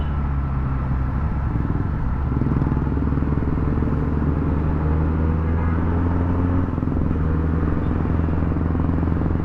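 Benelli TNT 300 motorcycle riding through city traffic in Bangalore, a steady close engine rumble and drone that holds loud for the whole stretch, with surrounding traffic noise mixed in and no talking.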